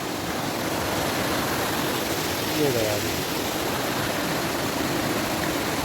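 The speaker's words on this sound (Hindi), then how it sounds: "दो झरने एक साथ आकर एक बन रहे हैं।" Two mountain waterfalls merging into one stream along the trekking route from Gangotri to Kedarnath: a close, loud, constant rush of water, with someone speaking briefly over it.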